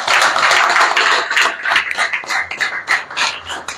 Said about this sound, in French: je vous demande d'applaudir encore pour notre camarade Koumbamba